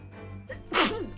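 A single short sneeze comes from a voiced character in The Great Ace Attorney Chronicles game. It is a quick indrawn breath, then a sharp, bright burst, heard alone.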